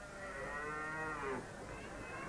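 Cattle at a busy rural cattle fair in Ireland, one long loud lowing moo close by that rises and then breaks off, with fainter crowd murmur and more livestock noise behind it.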